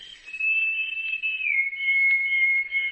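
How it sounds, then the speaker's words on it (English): A single sustained whistle, clear and steady, holding one pitch then dipping slightly lower partway through, heard alone against quiet background. "Then, almost like a delayed echo, there was an answering whistle."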